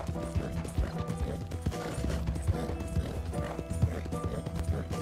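Horse hooves clip-clop in Red Dead Redemption 2, a quick steady gallop rhythm of close hoofbeats, with creaking tack and faint mechanical clicks underneath.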